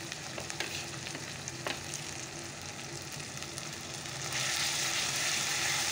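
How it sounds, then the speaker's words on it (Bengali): Cumin paste sizzles and fries steadily in a hot pan for Bengali home cooking, a dense continuous crackle that swells louder near the end, with occasional stirring scrapes and no talk. "তো চলো জিরে বাটাটা দিয়ে দিই।"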